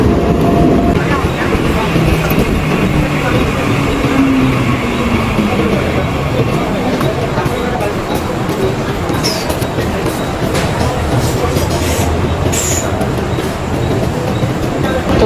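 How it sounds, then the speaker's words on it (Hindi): Western Railway commuter train arriving at a station platform, a loud rumbling roll with rail clatter and squeal, plus occasional higher screeches near the end; low voices of people on the platform run beneath it. "तो माशाल्लाह हमारी ट्रेन आ चुकी है, वेस्टर्न रेलवे, पश्चिम रेलवे।"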